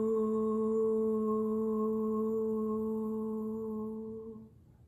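A group of people imitate a whale with one long sustained tonal hum, steady and loud, fading out near the end.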